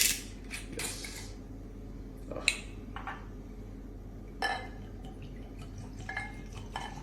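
Opening a bottle of Jägermeister, the German herbal liqueur made with 56 herbs: a few sharp clinks and brief rattles of glass and cap, close and moderately loud, separated by quiet pauses with no talking.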